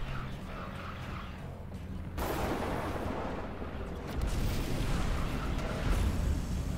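Unit weapons firing in Command & Conquer 3: Kane's Wrath, a continuous dense rumble of blasts and shots with a sharper surge partway through and growing louder toward the end, under game music.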